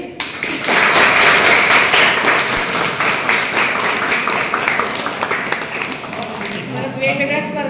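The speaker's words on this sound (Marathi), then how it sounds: "त्यांच्यासाठी एकदा टाळ्या झाल्या तरी" An audience claps together at a women's training gathering, sustained applause that swells quickly and carries on steadily for about seven seconds before thinning slightly.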